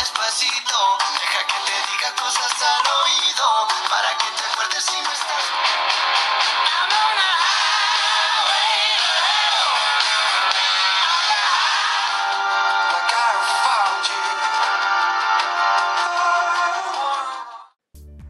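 Archos Diamond Alpha Plus smartphone loudspeaker playing music, a steady, bright, fairly loud stream that runs alone for about seventeen seconds before cutting off abruptly.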